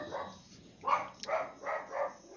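A pet dog indoors barks four times in quick succession, soft and somewhat distant, with short gaps between the barks over a quiet background.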